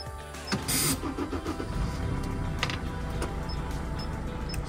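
Diesel engine of a Mercedes Sprinter 416 ambulance with automatic transmission cranks briefly and catches, then settles into a steady, even idle, recorded close by.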